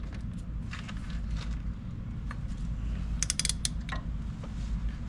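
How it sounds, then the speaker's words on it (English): A long-socket ratchet clicks in short bursts on a brake bleeder screw, with sharp pawl ticks close up over a low background hum. "I always start with a long socket to break it loose gently and avoid stripping it."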